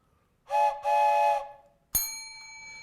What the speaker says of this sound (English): where will you hear the train whistle?